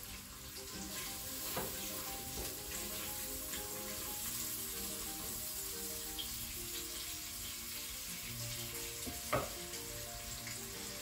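Onions fry in a crock pot set to about halfway on its temperature scale, a steady sizzle with a few spatula scrapes, under soft background music.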